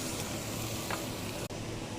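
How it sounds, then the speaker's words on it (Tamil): Broccoli being stirred and mixed in a hot cooking pan gives a steady soft sizzle with faint scraping, one brief clink near the end; quiet and close, no talking. "ப்ரோக்ளின் நல்லா மிக்ஸ் பண்ணிவிட்டு"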